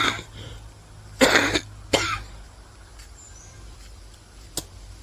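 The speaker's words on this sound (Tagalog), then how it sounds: "Inuubo na." A person coughs twice in quick succession, fairly loud and close, with a fainter throat-clearing rasp a few seconds later over a steady low background hum, outdoors on a walk to the beach.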